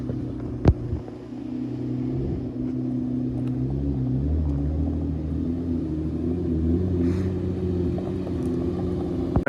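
A Pontiac Trans Am engine runs while driving during street tuning, a steady low droning rumble that holds throughout with a slight swell in the middle and no talk.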